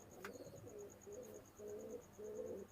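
Faint, low cooing from high-flying pigeons kept for sale comes in four or five gentle rolling phrases over a steady high-pitched background whine.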